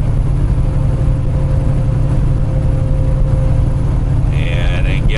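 A rebuilt Cummins X15 diesel in a truck runs steadily while driving, a continuous low engine drone with road rumble throughout, near and loud, joined by a brief higher whine near the end.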